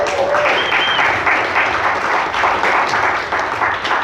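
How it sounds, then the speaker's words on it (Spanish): A church congregation applauds loudly and steadily for several seconds during a Sunday sermon, dense clapping throughout. "Un aplauso."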